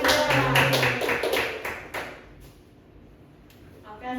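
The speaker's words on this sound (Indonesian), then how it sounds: "Tepuk tangan buat Nusaidah." A classroom gives a short burst of applause for a student, quick overlapping claps for about two seconds that thin out and fade, followed by quieter room noise and a few faint taps.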